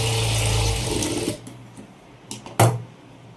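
A domestic sewing machine runs a steady stitching burst while quarter-inch tucks are sewn into a princess-cut blouse, then stops, leaving a few short handling clicks and thumps nearby.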